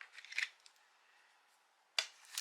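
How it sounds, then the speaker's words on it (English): Scissors trim red cardstock in a few close, crisp snips: a quick cluster of cuts at the start, then quiet, then two more sharp cuts near the end. "I'm also going to trim down some of our Schoolhouse Red cardstock to the same size as our note card."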